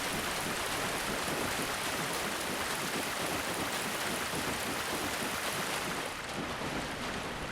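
Character running through water in Dark Souls, a continuous, broadband splashing wash that stays at an even level throughout and sounds close, with no pauses or voices.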